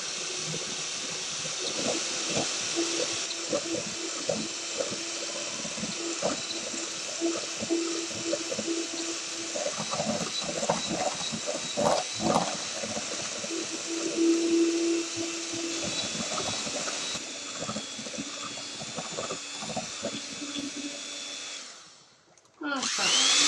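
A steady electric whirring hum runs almost continuously, an electric hand mixer churning cream, with brief clatters and a pause near the end.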